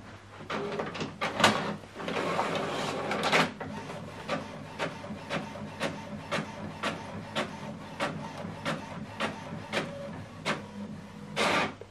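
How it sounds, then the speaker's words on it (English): An HP printer feeding and printing a 5x7 inch glossy photo, with an opening burst of mechanical whirring followed by a steady series of regular clicks and clunks as the paper advances, close and fairly loud. "So this photo we took, okay, here we go, is going to print out now."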